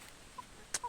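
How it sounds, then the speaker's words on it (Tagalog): Free-range chickens on a farm giving a few short, faint clucks, with two or three brief calls scattered across a quiet moment and no talking. "ay na yan ang mga manok ko"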